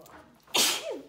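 A single close, loud sneeze with a sharp breathy burst and a trailing vocal tail, following a quiet moment indoors.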